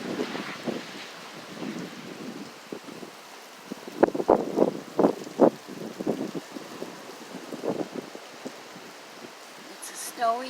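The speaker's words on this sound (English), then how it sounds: "listen to the wind." Strong gusting wind on a snowy day in Saint John, New Brunswick, roars and buffets against the microphone in uneven bursts, with a few sharper thumps midway; no clear speech.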